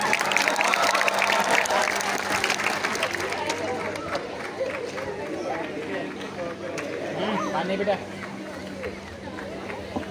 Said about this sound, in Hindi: एक बार आरपी सर के लिए जोरदार तालियां।